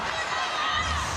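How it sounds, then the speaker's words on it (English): Crowd noise at a women's rugby match between the Black Ferns and Canada, a steady, dense roar of cheering spectators filling a large stadium, sustained without a break over a short stretch. "Listen to the crowd."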